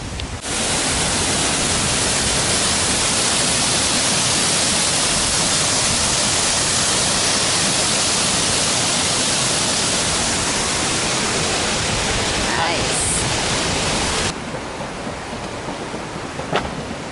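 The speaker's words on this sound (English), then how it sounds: "There's a lovely little weir dam thingy going on there" Loud, steady rushing of water pours continuously over a weir, a dense roar that drops off abruptly near the end, leaving quieter background.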